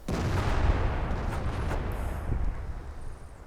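A tank gun in World of Tanks fires with a loud, deep boom that opens the moment and then rolls on as a heavy, rumbling echo, with a few smaller distant shots and thuds trailing behind it.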